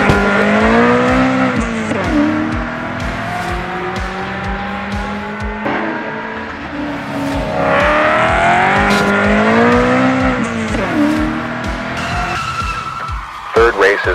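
Hot Wheels toy cars race on a DRC track at a shutdown race event, with continuous loud engine-like whine, rising and falling pitch sweeps and squeals. A voice talks over it throughout.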